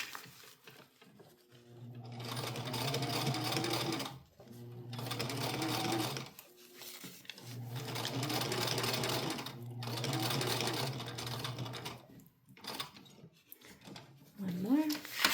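A sewing machine stitches a cloth diaper in several bursts of rapid, steady whirring, separated by short pauses, with a quiet voice between runs.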